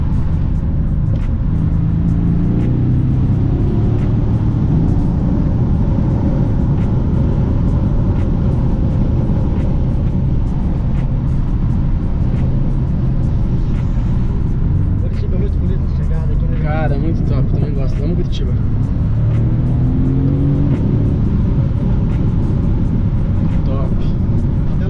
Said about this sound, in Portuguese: É uma sinfonia esse carro. Agora dá pra escutar.